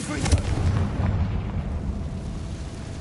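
A Confringo spell detonates in Hogwarts Legacy, a loud booming blast that rumbles heavily in the low end and trails off over a few seconds, with no speech over it.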